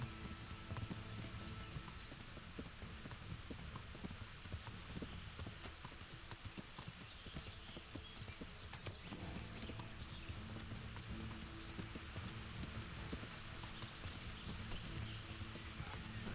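A horse gallops in the video game Kingdom Come: Deliverance, its hooves beating in a steady, continuous rhythm at moderate volume with no voices over it.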